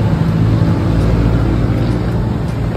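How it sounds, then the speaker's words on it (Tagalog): Yamaha NMAX 155 scooter, four years old and just repaired after a crushed torque drive bearing, running outdoors on a test ride with a steady, loud engine drone and wind rush throughout. "Kaya tinesper na ni Boss Jade sa labas dahil tapos na ang ating motor"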